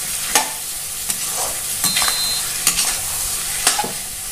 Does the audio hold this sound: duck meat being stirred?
yes